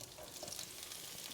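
Onions fry in a very hot pan for Austrian beef goulash, giving a steady close sizzle and crackle with no talking.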